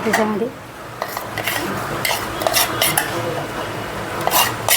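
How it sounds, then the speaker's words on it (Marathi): Besan (gram flour) is added to one-thread sugar syrup in a pan and stirred, with loud, close metal clinks and scrapes of a spoon against the pan. A brief spoken word sits over the stirring. "आता त्याच्यामध्ये आहे ना आपलं बेसन टाकून द्यायचं."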